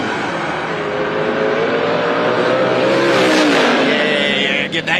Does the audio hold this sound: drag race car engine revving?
yes